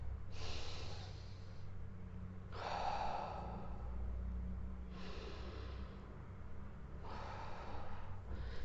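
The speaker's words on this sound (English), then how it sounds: "when I am breathing, you see only the abdomen, only the bottom of my stomach, the abdomen is moving" Slow, relaxed abdominal breathing close to the microphone, with four long airy breaths in an unhurried rhythm and a soft low hum underneath.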